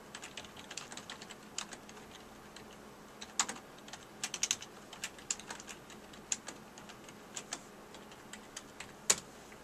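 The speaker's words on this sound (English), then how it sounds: "Or I can type in the office address" Typing on a computer keyboard while entering an address into mapping software in an office: quiet, irregular clicks and taps of the keys, sometimes in quick bursts, over a faint room hum, with no one speaking.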